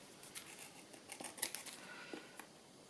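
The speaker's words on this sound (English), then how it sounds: "Just clean that bit of glue off before I cut it with my scissors" Scissors trim excess paper off a vintage paper lace tag, with a quick series of close, crisp snips and light clicks, fairly quiet and with no talk.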